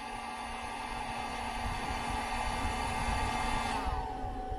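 A heat gun runs on its highest setting while powered by an Anker C1000 portable power station, giving a steady, even blowing roar with a faint whine above it throughout.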